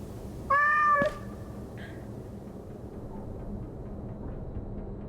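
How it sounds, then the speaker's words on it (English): Single short cat meow in a VR game, clear and fairly close, rising out of a low ambient hum and followed by quiet background noise. "That's freaking cool that they added a cat here."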